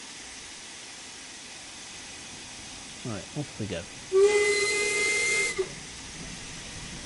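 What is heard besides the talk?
steam locomotive in video game Train Sim World 5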